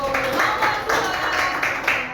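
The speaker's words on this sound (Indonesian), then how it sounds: "Oke, tepuk tangan dulu." Students in a classroom clap together, a rhythmic run of applause in pulsing bursts, close and moderately loud, with some voices mixed in.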